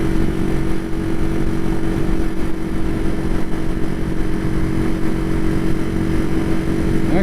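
Steady engine drone of a 1969 Honda CL350 Scrambler motorcycle cruising at road speed, a constant loud rumble with wind noise and no talking.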